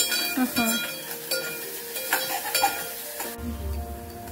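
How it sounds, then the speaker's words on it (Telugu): Onion and ginger fry in a pan for an Andhra-style coriander-eggplant chutney, a faint sizzle broken by clinks and scrapes of stirring. "ఉల్లిగడ్డ కాస్త అల్లం వేసి ఇలా కొంచెం వేయించుకోవాలి"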